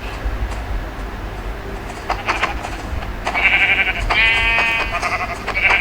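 Sheep bleating in Minecraft, several wavering bleats that repeat from the middle of the span to the end, over a low background hum. Nobody speaks.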